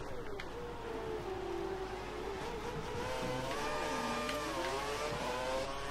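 Formula 1 race cars in the F1 2013 racing game, including Vettel's car on soft tyres with DRS open, drone past with rising and falling engine whines layered over a steady motor hum.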